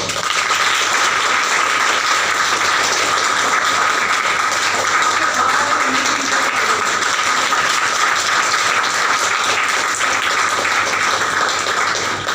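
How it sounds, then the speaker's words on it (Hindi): An audience at a motivational training program in India breaks into sustained applause, loud and dense from start to end with no pause. "तालियों के साथ बताइए।"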